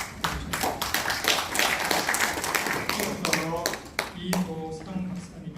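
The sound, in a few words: audience clapping at lecture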